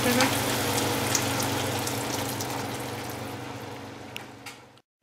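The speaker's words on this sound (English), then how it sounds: "it's time to add the vegetable stock" Vegetable stock poured into a sizzling pan of Mexican Quorn mince with vinegar and tomato ketchup, a steady frying hiss and liquid splash running continuously for about five seconds before cutting off, with faint background voice.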